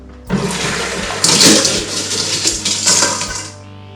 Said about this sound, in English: So I like to pour it out with water just to give it a little bit more cushion.